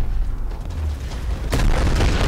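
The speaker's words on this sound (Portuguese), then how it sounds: "Caraca, quantas explosões!" Explosions in the video game Tomb Raider: a heavy booming roar that swells sharply midway into a loud, sustained blast filling the whole clip, with no talking.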